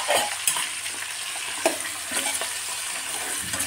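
Chopped vegetables hit hot oil in a kadai for homestyle chowmein, a loud continuous sizzle close by, punctuated by scraping stirs and occasional spoon clacks.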